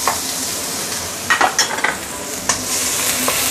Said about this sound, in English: I'm going to saute the garlic ginger